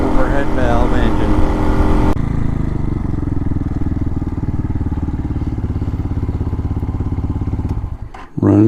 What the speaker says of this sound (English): CG Honda clone, push rod, overhead valve engine.